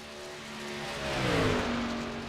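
Race cars circle Atlanta's track nose to tail in a NASCAR racing video game, their engines droning steadily and swelling a little louder as cars pass close.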